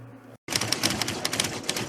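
Rapid typewriter keystrokes clatter in a dense, irregular stream after a brief silence, with sharp metallic key strikes and occasional bell-like pings, close and steady, no voices.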